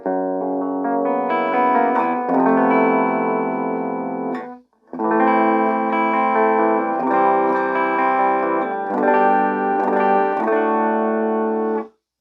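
An electric guitar plays through a Sonicake Sprint 15-watt amp with the treble fully scooped, giving a dark, mid-heavy distorted tone of sustained chords and notes, loud and alone, with one short break midway.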